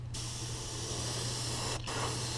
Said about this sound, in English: Spray the whole bait generously.